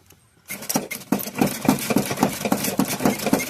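An engine cranks over and catches, then settles into a rough, pulsing idle that runs steadily at close range after a brief quiet start.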